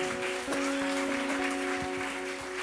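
A church congregation claps along in a steady beat during a Spanish-language worship service, with sustained musical tones from instruments underneath and no talk over the clapping.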